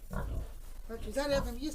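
A few soft grunts from three young boar piglets sound close by, mixed with people talking quietly in a village.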